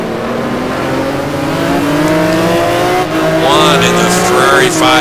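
A Ferrari 550 GT1 race car engine howls at the Nurburgring in a racing game, holding a steady high drone that climbs through gears, with tyre squeal near the end and a voice talking over it.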